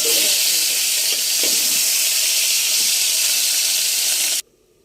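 Oil heating in a pan with cumin seeds, giving a loud, continuous close-up hiss and sizzle with a few soft pops, steady until it stops suddenly near the end.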